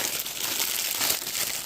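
Cardboard box packaging crinkles and rustles close by in a short, continuous burst of crackling.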